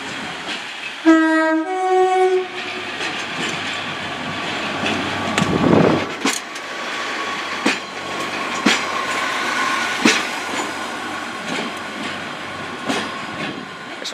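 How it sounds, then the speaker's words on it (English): A Great Western Railway Class 143 diesel unit, 143619, departs Exeter St David's with a short two-tone horn blast. Then come low rumbling and scattered wheel clicks and clanks as it pulls away. "departing now is 143619, forming the 1027 Great Western Railway service to Barnstaple"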